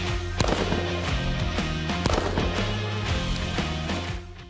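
Sharp gunshots fired at a matchstick target through an EOTECH EXPS3-DCR holographic sight come as a few sudden cracks, some in quick pairs, over a faint tonal musical background.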